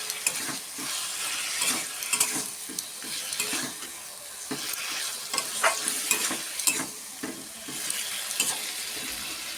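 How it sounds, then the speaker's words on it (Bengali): Chicken meat sizzles and fries in a pan of oil while being stirred, with repeated scraping strokes and crackling hiss that run steadily, close and loud, with no talking. "আমি মাংসটা ঢেলে দিলাম, দিয়ে একটু কষিয়ে নেব।"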